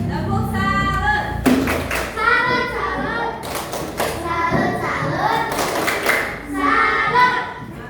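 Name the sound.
children doing a rhythmic 'tepuk salut' clap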